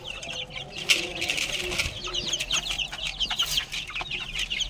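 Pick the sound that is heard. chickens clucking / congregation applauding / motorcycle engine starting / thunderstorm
chickens clucking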